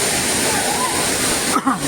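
Rushing water at the Savdav waterfall near Kankavli keeps up a steady, close hiss and slosh for a couple of seconds, with a short voice breaking in at the end.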